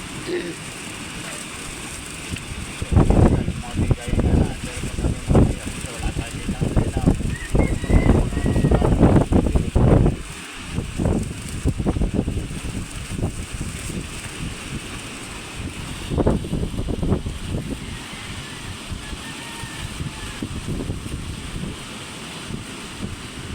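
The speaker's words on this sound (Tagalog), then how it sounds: "Ang lakas ng hangin." Strong gusty wind buffets the microphone with loud rumbling bursts, easing and returning throughout, with no clear speech.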